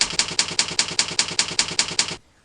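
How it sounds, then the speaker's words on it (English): Someone types a web address on a computer keyboard: about eleven sharp, evenly spaced key clacks in a steady rhythm, close and clear, then they stop abruptly. "When you type in a web address like www.tk.net"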